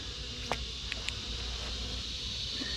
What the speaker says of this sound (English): this colony's got a few more bees in it.